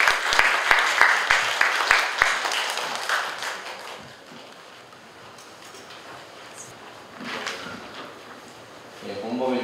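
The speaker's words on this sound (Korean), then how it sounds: "박수로 맞아주십시오." An audience at a film and copyright forum applauds to welcome a presenter. A burst of close, crisp clapping fills the first couple of seconds, then thins out into room noise and speech.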